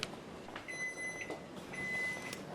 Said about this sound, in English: Our timer is going off